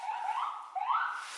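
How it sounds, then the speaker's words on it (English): Ambulance siren passing on a New York street, two rising and falling wails heard over about a second, moderately faint and alone with no talking. "actually that's the ambulance truck."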